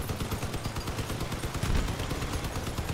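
Vehicle-mounted weapons firing in the combat game Crossout, with shotguns, machine guns and a cannon: dense, continuous bursts of rapid gunfire with a heavier boom near the middle, loud and steady throughout.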